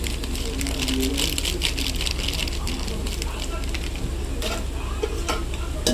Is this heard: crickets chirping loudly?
no